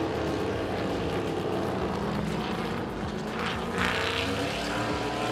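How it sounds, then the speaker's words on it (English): Race car engines at Sepang International Circuit in Malaysia roar continuously during a touring car race, a steady dense drone that swells near the end as cars accelerate out of corners, with no talk over it. "Listen to the engines roar as they accelerate out the corners."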